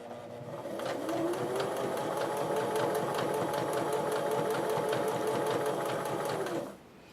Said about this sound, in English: you're going to sew to the edge of the fabric